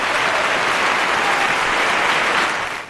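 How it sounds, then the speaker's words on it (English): Studio audience on a radio morning show giving a steady round of applause, dense and loud throughout before trailing off at the end. "Let me give you all a round of applause."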